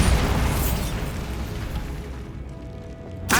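A Bombarda spell blasts in Hogwarts Legacy with a loud, booming burst that rumbles and slowly fades, then a second sharp crack hits near the end.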